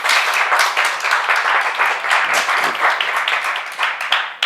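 A small but excited studio audience at the Coach Harry Show applauds, a dense, steady burst of clapping sustained for several seconds before cutting off.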